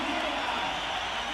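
A large arena crowd at a CrossFit event cheers steadily for an athlete, a continuous roar of voices and applause heard throughout without breaks.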